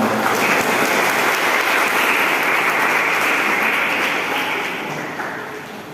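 A school arts competition audience in Subulussalam breaks into loud, dense applause that holds steady for several seconds before starting to taper off at the end.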